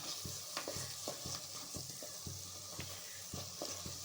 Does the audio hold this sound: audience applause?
no